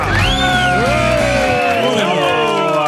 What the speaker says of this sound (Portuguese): Palmas para Thelma Rocha!